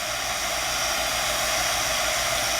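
A heat tool blows a steady, loud stream of hot air to dry marker ink on Dura-lar film, a constant whooshing hiss with a low motor hum underneath and no other sounds.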